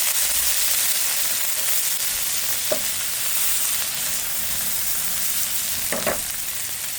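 Green onions sizzling in a pan at a backyard cooking spot, a steady loud frying hiss with a couple of short scraping stirs.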